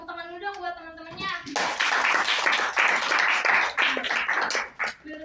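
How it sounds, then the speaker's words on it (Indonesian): Classmates in a microteaching classroom clapping together, a quick burst of many hands following a voice, with lively rhythmic applause that fades after a few seconds. "Oke, tepuk tangan dulu dong buat teman-temannya."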